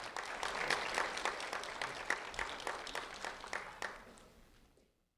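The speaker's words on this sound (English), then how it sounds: "a round of applause for Brisa Suarez Garcia" An audience applauds a third-grade student at a community recognition event, with moderate steady clapping that gradually fades out over about five seconds and ends in silence.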